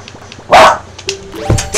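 A dog barks in The Legend of Zelda: Wind Waker video game, giving a loud, close yip followed by a few smaller whimpering barks amid game sound effects.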